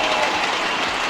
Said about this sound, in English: And the crowd loves it too.